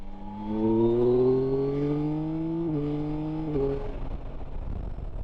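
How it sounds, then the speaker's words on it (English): A Yamaha Tracer 9 GT+ motorcycle accelerating hard, its engine note climbing steadily in pitch through one long pull, then dropping briefly at two quick gear changes before rising again, loud and close with no voices. "One last twist of the throttle then"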